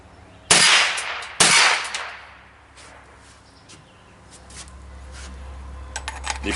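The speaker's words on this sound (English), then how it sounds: "I'll give 2 shots with muzzle brake only" Two sharp, loud rifle gunshots through a muzzle brake fire about a second apart, each a close, harsh crack with a short ringing decay, followed by quieter handling noises and low rumble.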